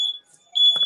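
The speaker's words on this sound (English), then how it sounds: "it's my smoke alarm" A home smoke alarm gives two shrill high chirps separated by a short gap, loud and close, with a brief clatter under the second chirp and no talking.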